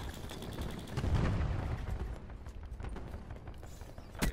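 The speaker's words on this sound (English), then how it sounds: "Cluster grenade." Cluster grenade going off in a shooter game, a heavy burst of overlapping blasts peaking early, followed by scattered smaller pops and crackles, ending in a sharp final crack.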